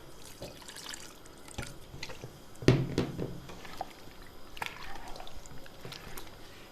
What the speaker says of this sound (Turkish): Suyumuzdan biraz daha ilave ediyoruz.